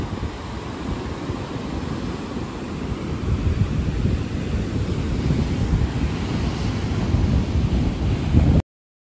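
Sea waves roll in on a beach in Ghana, a steady, rumbling wash of surf mixed with wind buffeting the microphone, growing slightly louder before cutting off abruptly near the end.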